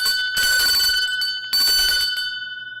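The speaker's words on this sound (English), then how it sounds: "Ring the bell." A bell is struck twice at an auto-auction style event, each ring loud and close with a bright, sustained metallic tone that decays slowly between strikes.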